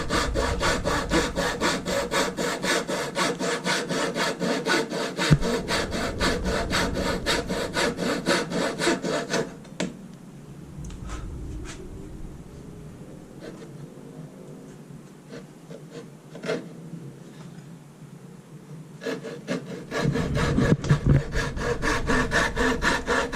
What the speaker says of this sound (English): the front of the coping saw is going to be hitting here, so it's very short strokes that I can do